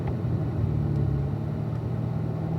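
A car out on a race track, its engine holding a steady, close, droning rumble with no clear gear change, alone without talk.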